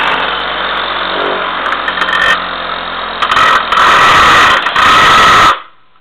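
A drill press, running at very high speed, gives a loud, steady motor whine with grinding rises, then spins down and stops abruptly near the end.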